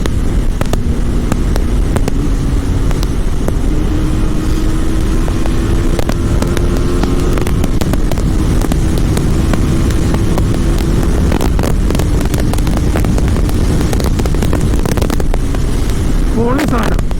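A 2025 RR 310 motorcycle engine hums steadily under wind rush while riding, its pitch climbing through gears with quick-shifter changes, loud and close throughout with a brief gear shift burst near the end.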